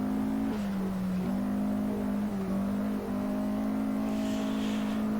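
A sustained race car engine held at high revs in a racing video game, its pitch stepping down briefly at each gear change before climbing again, loud and continuous with no talk over it.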